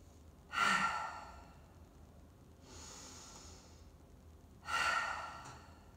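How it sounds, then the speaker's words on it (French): Deep relaxed breaths exhaled through the mouth during a vinyasa yoga session, two long breathy sighs with a softer exhale between them, faint and close against a quiet background. "je vais faire 3 grandes respirations. Vraiment relâche à travers la bouche."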